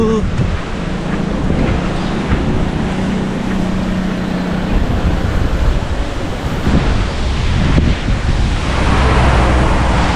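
Surf at Patong Beach, Thailand, rolls in during rain and strong wind, a steady loud wash of breaking waves with heavy wind buffeting the microphone throughout.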